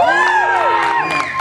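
A festival crowd at the Canadian Tulip Festival cheers and shouts together, with high whoops and excited voices rising over a dense, loud, continuous roar throughout.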